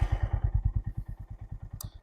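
A Honda CB350 H'ness DLX Pro 2026 motorcycle engine just after starting, close up, with an even run of deep, rapid thumping beats and a brief click near the end.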